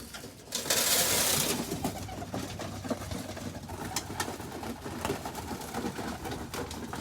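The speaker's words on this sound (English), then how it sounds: "I'm feeding all the birds together so they start kind of getting used to each other" Young pigeons being fed together, with soft cooing and fluttering close by and a loud burst of wing flapping near the start, then steady bird noise.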